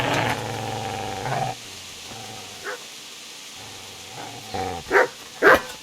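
A dog from the video game Kingdom Come: Deliverance gives a few short barks and growls, sparse at first and then two louder close bursts near the end, over a quiet low game ambience.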